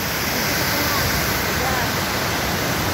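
Aliwagwag Falls pours with strong rushing water, a loud, steady, broadband roar that holds unbroken and close throughout.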